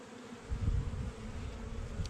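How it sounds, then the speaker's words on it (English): A chunky drone honey bee buzzing when pushed on during a beekeeping hive check, a faint, close, steady low hum that swells briefly partway through and carries on alone. "The drone is this chunky bee right here. Every time I push on it, I can feel it buzzing."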